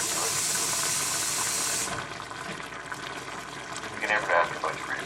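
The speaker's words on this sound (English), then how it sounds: "I think it needs a bit more water." Water pours into a chicken stir fry with a strong rushing hiss for a couple of seconds, then stops, leaving a softer sizzle while people murmur nearby.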